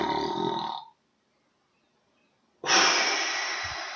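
A voice imitates snoring with one long, slow, breathy draw followed by a silent pause, then another loud, drawn-out breath, as when showing the extended gap of sleep apnea.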